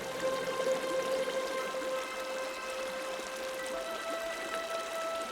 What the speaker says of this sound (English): The further away from the main falls I go, the less roar and the more ripple I'm able to record.